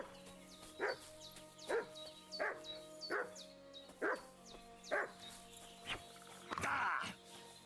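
A dog barks in the video game Kingdom Come: Deliverance 2, giving a steady series of about eight evenly spaced barks at close range over quiet ambient game sound, with a louder, rougher bark at the end.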